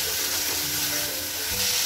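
Vegetables and sauces, including red chili sauce, cooking in a pan for veg Hakka noodles, with a loud, continuous sizzle and frying and no talk over it.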